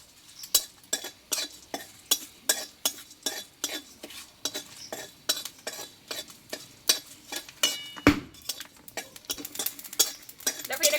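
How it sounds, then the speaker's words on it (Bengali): Clove, a cinnamon stick and whole cumin are dry-roasted in a pan for a Bengali papaya dish. A spatula scrapes and taps the pan in a quick, steady rhythm, about two strokes a second, close and clear. "একটা লবঙ্গ আর দেবো একটা দারচিনি স্টিক আর হাফ চামচ মতো গোটা জিরে এটা একটু শুকনো খোলা একটু ভেজে নেবো"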